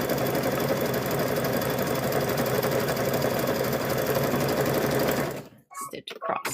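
Sewing machine stitching a patchwork gnome quilt, a steady fast whirring run for about five seconds that stops abruptly, followed by a few faint handling sounds.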